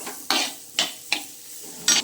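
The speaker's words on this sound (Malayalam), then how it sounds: "ഇനി നമുക്ക് ഈ സവാള ഇട്ട് കൊടുക്കാം. ഇതൊന്ന് നന്നായിട്ട് വഴന്ന് വരട്ടെ." Onions sautéing in butter in a hot pan, with four sharp stirring scrapes at uneven intervals over a quiet background sizzle, close and alone without talk.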